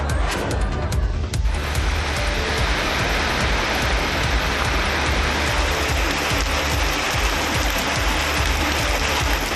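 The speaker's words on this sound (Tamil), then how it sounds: "சேலம் ஏற்காட்டில் கனமழை பெய்ததால் சாலைகளில் வெள்ளம் பெருக்கெடுத்து ஓடியது" Heavy rain pours in Yercaud, Salem, with floodwater running across the roads: a dense, loud, continuous roar of falling and rushing water with no voices.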